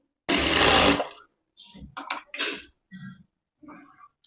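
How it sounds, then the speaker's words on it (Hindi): A sewing machine stitches a katori blouse in short bursts: one long, loud run followed by several brief, quieter starts and stops, close by with no talk. "यहाँ पे मैं सिलाई लगा रही हूँ"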